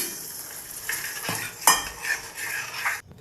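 A spoon stirs roasted coconut and cashews into moong dal for an Onam payasam-style dish, with close scraping and metal clinks over a light sizzle, ending abruptly.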